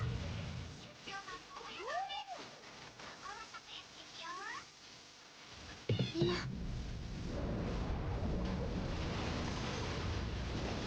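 A cat in the game Blue Archive gives a few rising and falling meows early on. A dense, rumbling game noise follows and fills the rest of the stretch.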